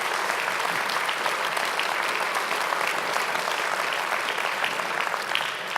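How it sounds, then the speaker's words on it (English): A conference crowd at an energy summit's closing keynote claps steadily and fully for Ed Goes and Chip Reimer, a thick wash of applause that stays even throughout without any talking. "How about a round of applause for Ed Goes and Chip Reimer?"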